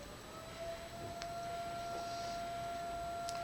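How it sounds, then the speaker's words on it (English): Tornado sirens wail faintly in the distance during a spring storm, a thin sustained tone over a quiet background with a couple of small ticks. "tornado sirens. Oh great."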